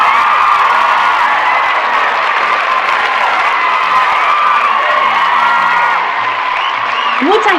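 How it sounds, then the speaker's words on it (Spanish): A lively audience cheers, whoops and claps to welcome panelists at a presentation, loud and continuous with high shouted voices above a steady wash of crowd noise. "Denle una cálida bienvenida y un fuerte aplauso a Sofía Izquierdo"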